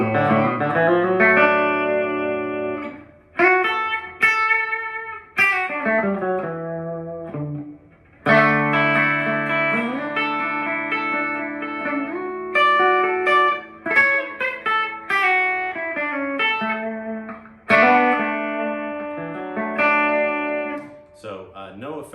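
A Squier Classic Vibe Jazzmaster electric guitar played on its bridge pickup through an amp with light reverb and no other effects, bright picked chords and single notes in phrases with pauses, ringing out clearly alone.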